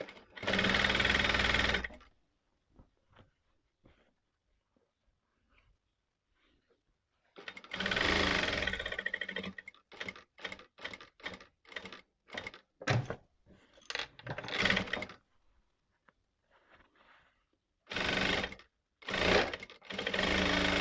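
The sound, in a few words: sewing machine stitching a fabric facing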